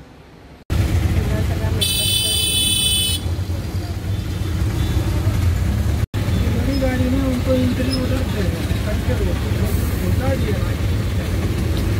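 Busy city street traffic in Mumbai, with steady engine rumble and a loud blaring car horn partway through, plus fainter honks later, close by and continuous.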